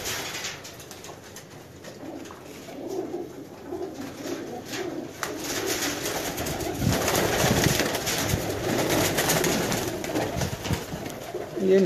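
Pigeons coo steadily in a loft, soft rolling calls layered over constant rustling and flutter at moderate loudness, without speech.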